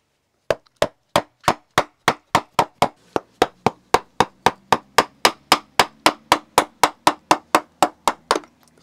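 A wooden mallet drives a tool across the grain of a wooden kuksa held against a backstop: a close, loud, evenly spaced run of about two dozen sharp knocks, with no talking.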